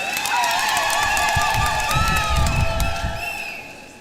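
A large congregation at a Catholic diocesan jubilee in Moshi applauds and cheers steadily, with claps and shouts spread across a big space and a soft voice heard under the crowd.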